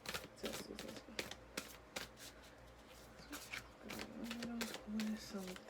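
Tarot cards riffled and shuffled in bursts of crisp, papery flutters for a pick-a-card reading, close by, with a faint voice humming or speaking near the end.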